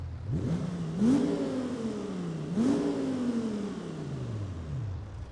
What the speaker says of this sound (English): so we can actually hear the motor